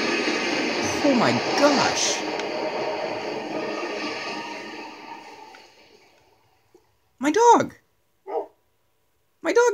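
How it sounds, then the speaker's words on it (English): A tamed wolf in Minecraft barks three short, sharp times after a stretch of dense, busy game ambience has faded to near silence, with each bark standing clear and fairly close. "Or wait, maybe that's a wolf."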